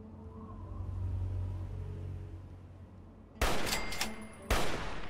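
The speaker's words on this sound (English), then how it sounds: "There we go, double shot." Two sharp, loud gunshots crack in quick succession in the video game Fallout: A Tale of Two Wastelands, after a low rumbling ambient drone.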